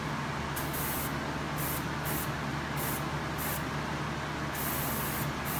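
A Prevail handheld spray unit sprays paint in a series of steady hissing bursts, each a second or so long with short pauses, close and fairly loud.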